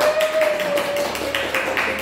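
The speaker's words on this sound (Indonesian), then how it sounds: "Tepuk tangan dulu untuk kita semua" A class of students gives a round of applause, quick rhythmic clapping close by over a faint steady tonal hum.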